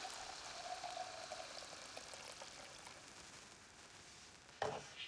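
Cold water pours steadily into a pot of vegetables, spices and preserved lemons, a soft, faint trickling stream that ends with a brief knock near the end.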